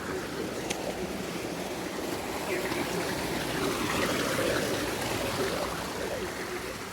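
A mountain torrent rushes through a scree field, a steady broadband roar of water that fills the whole stretch without breaks, moderately loud and heard outdoors with no clear voice over it.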